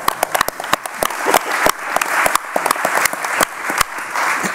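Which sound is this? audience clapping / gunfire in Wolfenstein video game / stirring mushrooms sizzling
audience clapping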